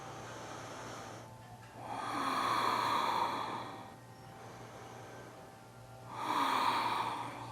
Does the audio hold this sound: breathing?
yes